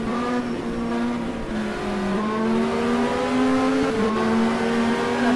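A GT3 race car engine drones loudly and steadily from a rear onboard camera during a race at Vitus Park. The tone climbs through rising revs with brief dips at gear changes.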